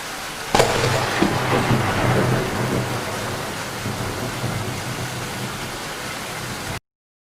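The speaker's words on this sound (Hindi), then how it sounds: "गरज चमक के साथ बहुत पानी गिर रहा था" Heavy rain pours steadily during a thunderstorm at night. A sharp crack of thunder comes near the start, followed by a dense, unbroken hiss of downpour that stops abruptly.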